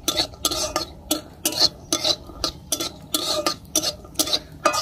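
Chopped cashew nuts stirred and fried for a Bengali chire pulao, heard as a series of regular scraping and rattling stir strokes close by, about two per second, with little sizzle beneath.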